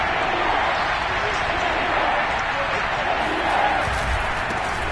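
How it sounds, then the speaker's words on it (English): Stadium crowd roar at a Kansas City Chiefs home football game against the Giants, a loud steady wash of cheering and noise near the goal line on third down, with a commentator talking over it. "this is where the KC crowd can make it very tough"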